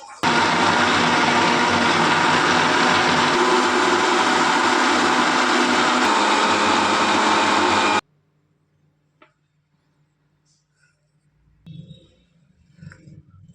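A mixer grinder blending soaked millet rice with water whirs loudly and steadily for several seconds, then cuts off abruptly, leaving near silence with a few faint clicks and soft handling sounds.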